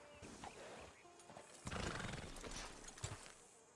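A horse snorts and shuffles nearby, with hoof clops and a brief whinny-like sound amid outdoor background noise.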